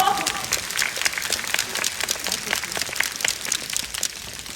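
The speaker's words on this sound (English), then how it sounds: "Let's give them a big round of applause." An audience applauds steadily for several seconds, a dense wash of many hands clapping at close to moderate distance, easing slightly toward the end.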